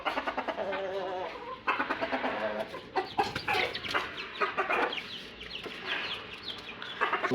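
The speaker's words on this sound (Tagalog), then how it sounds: "Magpaparami ako nito mga manok, mga panabong." Fighting roosters cluck and squawk busily in a cage, several birds calling in overlapping bursts close by.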